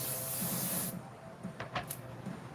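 Aerosol spray paint hisses steadily onto a Pikachu figure, then cuts off, followed by a few short bursts; close and fairly quiet.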